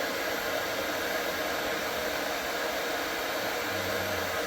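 Heat gun blowing steadily onto crayons to melt them for a Halloween witch's cauldron craft, a constant close whooshing hiss of hot air with no talk.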